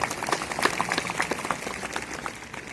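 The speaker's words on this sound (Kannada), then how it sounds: "ಹೊಡ್ರಿ ಚಪ್ಪಾಳೆ" Audience clapping at a gathering at a mutt (monastery), a faint, brief spatter of scattered claps that stays at an even level with no voices.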